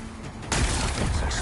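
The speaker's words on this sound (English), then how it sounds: "It's exploding." A game explosion from Horizon Forbidden West bursts in suddenly and loudly after a quieter stretch, then sustains as a dense, rumbling roar with crackling debris for about a second.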